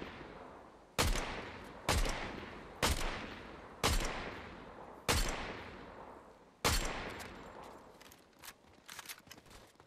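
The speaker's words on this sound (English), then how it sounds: "Someone's shooting me!" Gunfire is aimed at the player in a Fortnite Zero Build squads match: six loud, sharp shots come about a second apart, each with a decaying tail, followed by quieter scattered pops.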